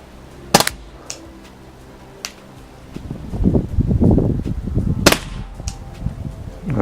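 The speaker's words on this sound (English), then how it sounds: "And that was a blank shot, I think." Walther CP99 air pistol fired while plinking outdoors: two sharp snapping shots spaced apart, a faint click, then wind rumble before another distinct crack.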